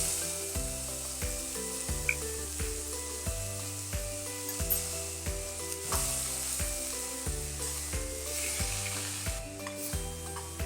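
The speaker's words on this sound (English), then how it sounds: "Carrot and spinach are fried a little bit." Grated carrot and spinach fry in a pan with a steady sizzle, while a loud, repeating musical backing runs throughout; no voices.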